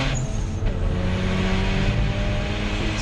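A Mazda RX8 race car at Donington rolls slowly into the pit lane with a steady, moderately loud engine drone and no hard revving, over trackside ambience and without any talking.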